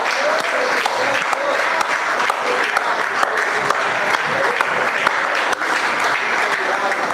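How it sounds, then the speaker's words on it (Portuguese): A church congregation gives a strong round of applause during a worship service. The clapping is loud, continuous and crowded, with a voice faintly present at the start. "Será que você pode dar um forte aplauso ao Senhor?"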